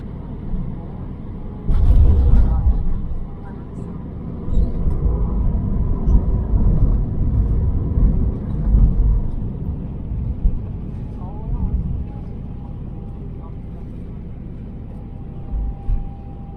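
Ageing Croatia Airlines aircraft descending into Zagreb, heard from the cabin as a low, continuous rumble with a heavier thump early on and gentle swells in engine noise.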